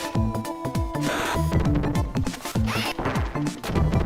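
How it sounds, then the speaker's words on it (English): Glass bottles smashing in a slot-style video game: a rapid series of sharp crashes and shattering hits over a bright, tonal game music bed, about seven or eight bursts in quick succession. "I love it when he was smashing with the glass. I love the sound it makes."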